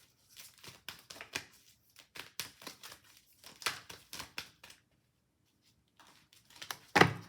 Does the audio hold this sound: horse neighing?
no